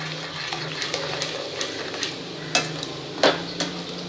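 Amla murabba being stirred with a spoon in a pot after black pepper powder, cardamom and ground sugar are added: a steady soft scraping with sharp clinks and taps against the vessel, close and fairly quiet.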